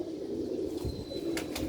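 A pigeon coos softly in a steady low murmur, close to the microphone, with a couple of brief sharper bursts near the end and no talking.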